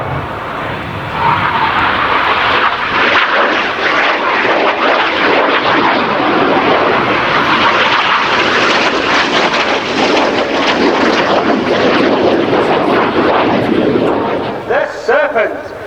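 RAF Red Arrows jets fly the Carousel manoeuvre at the Royal International Air Tattoo 2024, a loud, sustained roar of jet engines that barely wavers for the whole stretch before easing slightly at the end.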